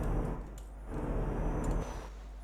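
An Iveco truck engine in Euro Truck Simulator 2 rumbles low and steady, with a deep idling drone and faint higher whine, no talking over it.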